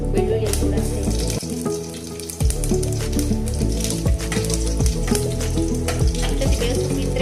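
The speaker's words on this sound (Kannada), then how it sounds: "ಹಾಗೆ ಬೆಳ್ಳುಳ್ಳಿ ಮತ್ತು ಸಾಸಿವೆದು ಮಾತ್ರ ಒಗ್ಗರಣೆ ಮಾಡ್ತಾ ಇದ್ದೇನೆ" Garlic and mustard seeds tempering in hot oil for sambar in a home kitchen, a steady crackling sizzle with pops and clinks of stirring, backed by a dense, continuous low hum throughout.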